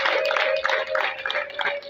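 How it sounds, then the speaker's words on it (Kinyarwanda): Wedding guests at a Rwandan ceremony clap in a quick crowd burst, close and bright, with a steady tone humming underneath. "Amashyi menshi cyane mwakorana."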